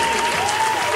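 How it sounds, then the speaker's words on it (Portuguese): Applause for an award winner at a playful awards ceremony. A steady burst of clapping lasts about a second, with a thin sustained tone running underneath. "Salva de palmas."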